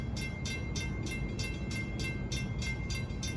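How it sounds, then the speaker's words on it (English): A Long Island commuter train of M9 cars, train 1062 from Grand Central to Brentwood, approaching Bethpage station in the evening rush, with a steady rumble and a regular, rapid clicking from the wheels, sustained and fairly close. "We're approaching at 6:35 is train 1062 from Grand Central to Brentwood."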